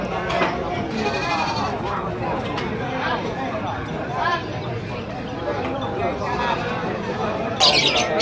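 Goats bleat repeatedly amid a busy traditional livestock market in Blega, with constant crowd chatter and nearby voices filling the scene.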